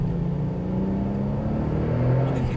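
A Porsche 997 accelerating, its engine a loud continuous low drone that climbs in pitch as it pulls, with no voices over it.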